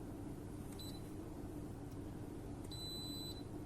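Recorded electronic beeps, two short bursts of steady high-pitched tones about two seconds apart, heard faintly over a loud constant low rumble.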